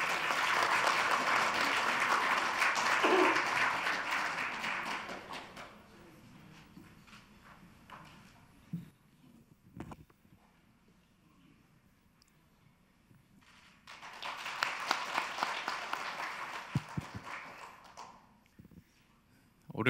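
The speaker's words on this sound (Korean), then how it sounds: "큰 박수 부탁드립니다" Audience applause greets Ahn Cheol-soo at a business gathering, loud and sustained for the first few seconds, then fading into quieter murmur and scattered movement before a second burst of clapping rises later.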